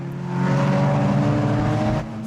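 A 500cc race car, the race leader, sweeps past at speed during a circuit race at Kirkistown, its high-pitched engine whine loud and close before dropping away.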